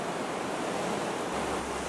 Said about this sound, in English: that's a lot of white water